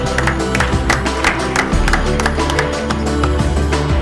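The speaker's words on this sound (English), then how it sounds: "Can we have a big round of applause for them, please?" A dense, loud burst of audience applause fills a business networking meeting hall, steady clapping throughout with background music underneath.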